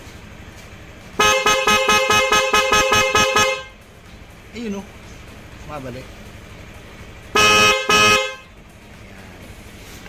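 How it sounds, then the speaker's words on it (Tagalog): Horn of a Honda Click V3 scooter honks in a rapid run of short toots for about two seconds, then one more longer blast follows after a pause; someone speaks briefly between them. "High beam. Busina mo nga."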